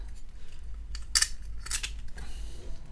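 Plastic parts of a Transformers Studio Series Starscream figure click and snap as they are folded, a few short sharp clicks close by in quiet surroundings.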